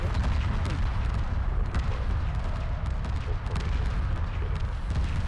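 Torpedo frigates firing in the space strategy game Homeworld 2, a dense continuous barrage of booming blasts and rumbling impacts packed closely together, loud and unbroken throughout.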